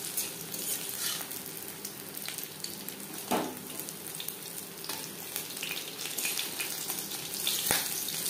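Fish oil pakoras fry in hot oil with a steady, close sizzle and crackle that runs the whole time, broken by a few sharper pops and spatters and no voices.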